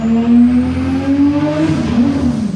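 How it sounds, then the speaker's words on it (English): A VL Turbo car accelerates hard, its turbocharged engine note climbing steadily in pitch, loud and close. "How good is the auto noise when the valve smacks?"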